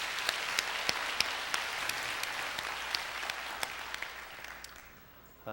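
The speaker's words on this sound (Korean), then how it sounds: "우리 하나님 앞에 우리 영광의 박수로 올려드립시다." A church congregation applauds in steady, moderately loud clapping, with a few sharper individual claps standing out, fading away toward the end.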